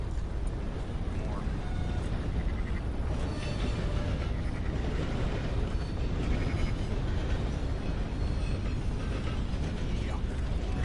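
A long train rolls past in Red Dead Redemption 2, a steady, dense rumble with creaking and ratcheting wheel-and-coupling clatter that continues without a break.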